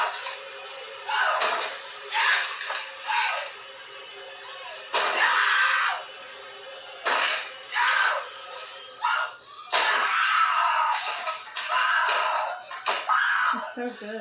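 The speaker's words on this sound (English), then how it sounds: "She has to just do a lot of screaming and crying." A woman screaming and crying in a scene from the film The Shining, heard as repeated, high, strained bursts of wailing cries at fairly constant loudness with short gaps between them.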